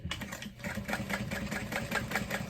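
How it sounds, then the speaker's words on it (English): Sewing machine stitching fabric along a fold line while adding a slip pocket to a bag, a steady rapid mechanical whir with quick rhythmic clatter, fairly quiet and close. "I'm just going to sew along the 6" fold line"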